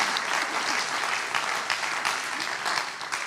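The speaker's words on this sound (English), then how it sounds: "let's give Julian a round of applause" A conference audience gives a speaker a round of applause, dense and continuous clapping with slight swells, no voices over it.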